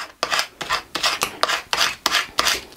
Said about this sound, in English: Then we can just add both of those layers to our coaster. Burnish that down well